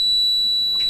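An Aqualarm Last Watch II watch-keeping alarm in a boat cockpit sounds a loud, continuous, high-pitched electronic tone, steady and piercing, heard alone without talk.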